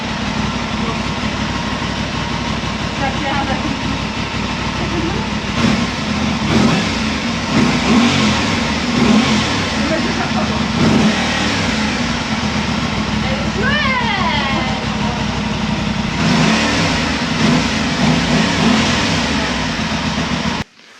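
A new motorcycle's engine runs continuously nearby, with a steady mechanical drone and repeated rises in revs, while people talk over it throughout before it cuts off abruptly at the end.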